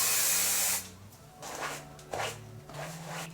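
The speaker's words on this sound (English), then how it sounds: "Take a little bit of hairspray." Hairspray hisses onto hair in a few short bursts, the first long and loud, then three quieter sprays, with light handling sounds between them and no talking.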